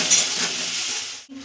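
Grated ginger and garlic frying in hot oil give a steady, close sizzle with light stirring, ending in a brief clink of a utensil against the pan.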